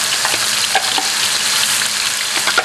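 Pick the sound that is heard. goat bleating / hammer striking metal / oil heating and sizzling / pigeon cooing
oil heating and sizzling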